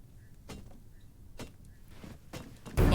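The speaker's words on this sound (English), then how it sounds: "the sound of him trying to whack his way through the door" In the Rust video game, a player whacks at a door to break through: a handful of dull, spaced thuds, followed by a louder crashing burst at the end.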